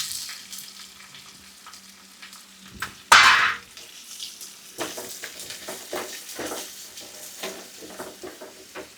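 Coconut pieces, ginger, green chilli, garlic and onion are dropped into a hot pan and burst into a loud, sharp sizzle. It settles into a steady crackling fry with occasional stirring clatter.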